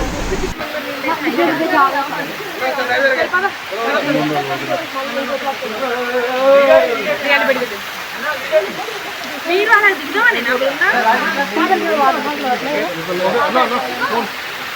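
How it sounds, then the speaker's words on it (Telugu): Waterfall spray at Srisailam, a steady close rush of falling water with fine drops showering down, heard alongside people talking throughout. "పైనుండి అట్లా వాటర్ ఫాల్స్ పడుతూ ఉంటే వాటితో పాటు చిన్న చిన్న జల్లుల్లా మనపై పడుతుంటాయి."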